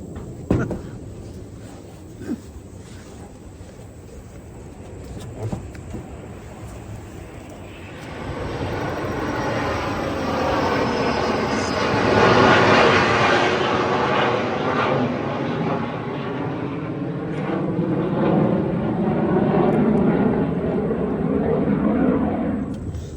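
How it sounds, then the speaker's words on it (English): A loud low-flying military jet roar swells in after a quieter stretch and holds steady, a broad rushing engine noise passing low overhead. "you're gonna hear a lot of low-flying aircraft right here"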